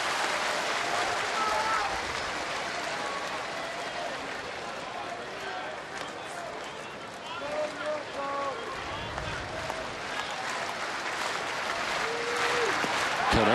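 A capacity crowd at Fenway Park during a Boston-Chicago baseball game, top of the ninth with two outs, applauding and cheering steadily throughout, a broad roar rising near the end with a commentator talking over it.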